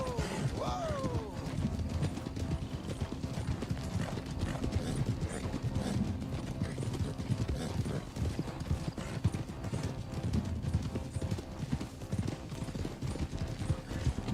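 Horse hooves clip-clopping in Red Dead Redemption 2 as a rider moves along, giving a steady rhythmic run of hoofbeats with an occasional whinny over low background game ambience.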